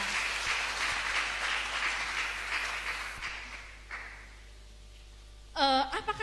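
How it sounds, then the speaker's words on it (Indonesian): Audience applause in an Indonesian talk on women and gender equality, a moderate crowd clapping that fades out over a few seconds, leaving quiet room tone before a brief, louder tonal burst near the end. "Beri dia tepuk tangan."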